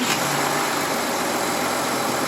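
An Audi Q7 TDI diesel engine runs at a steady idle, loud and close, with a constant broadband rumble and no talking.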